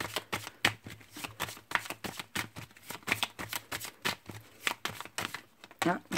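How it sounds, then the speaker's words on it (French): Tarot cards being shuffled by hand in quick, regular riffling bursts, close and fairly quiet, with a soft hum beneath. "Pour que vous voyez bien que je mélange les cartes."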